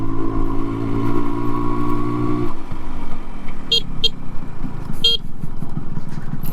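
A Yamaha RX 100 two-stroke motorcycle engine running steadily while riding on a road, its pitch shifting midway, with brief vehicle horn toots from nearby traffic.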